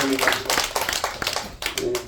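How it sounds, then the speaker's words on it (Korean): Clapping from a church congregation during a Sunday worship service, a few scattered hand claps mixed under a speaking voice, short and uneven rather than a full ovation. "박수 한번 쳐줘봐"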